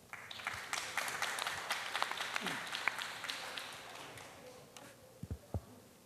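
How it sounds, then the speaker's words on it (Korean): Modest applause from an audience at a citizens' cultural camp lecture on tidal flat salt farming and ecology, a soft steady patter of clapping with a faint hum beneath, a few louder thumps near the end. "그럼 박수로 한번 청해 듣겠습니다"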